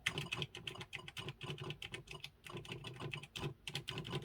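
Rapid, clacky keystrokes on an Atari XE mechanical keyboard, close up and continuous with uneven rhythm and no voices.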